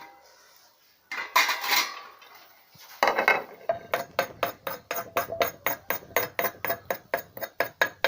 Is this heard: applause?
no